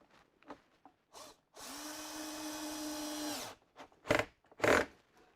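A magnetized power screwdriver drives a screw into wood in a workshop, one close, steady motor whir lasting about two seconds that rises slightly in pitch, framed by short knocks and handling clatter.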